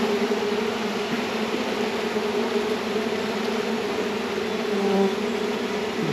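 Honey bees buzz steadily around a swarm box, a continuous close drone with a slight swell near the end and no voices.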